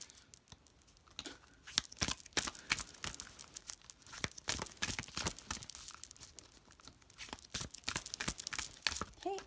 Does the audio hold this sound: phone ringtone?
no